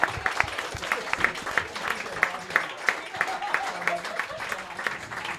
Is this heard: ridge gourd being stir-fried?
no